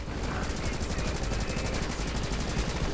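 Rapid gunfire from the side-scrolling shooter game Rocketbirds: Hardboiled Chicken, a dense, continuous burst of shots that runs steadily through the whole stretch at a loud, even level.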